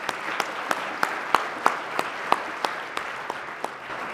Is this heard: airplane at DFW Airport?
no